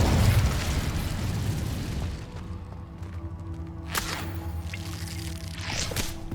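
An Incendio fire spell is cast in the Hogwarts Legacy video game: a loud rushing, crackling whoosh of flame dies down after a couple of seconds, followed by a few softer pops and bursts against a low, steady hum.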